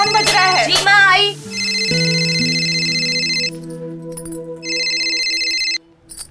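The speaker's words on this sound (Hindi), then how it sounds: "तेरा फोन बज रहा है।" A mobile phone ringtone plays loudly right after a short spoken line, a steady electronic tune with sustained tones that pause once and then repeat before cutting off.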